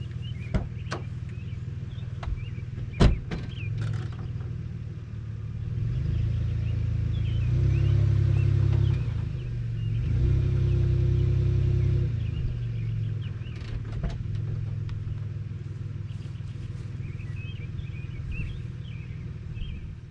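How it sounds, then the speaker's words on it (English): A truck pulls a wind-damaged greenhouse with four straps, its engine a steady low rumble that swells for a few seconds mid-way, with a couple of sharp knocks early and faint birdsong outdoors. "I'm going to use my truck to pull my greenhouse"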